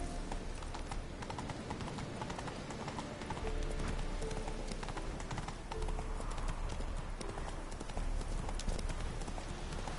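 Steady clip-clop of a horse's hooves, the horse Roach in a video game, trotting at an even rhythm close by with a faint background bed and no talk over it.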